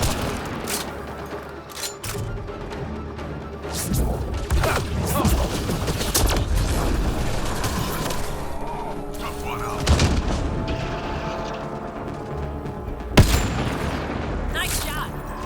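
Game gunfire from Mass Effect Andromeda: a dense run of shots and booming blasts, loud and steady throughout, with a sharp heavy burst near the end and people talking over the fighting.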